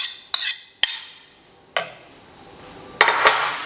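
A utensil clinks and scrapes against a bowl while yogurt and vinegar are stirred together for tzatziki: a few sharp, separate metallic taps spaced over a few seconds, close and otherwise quiet.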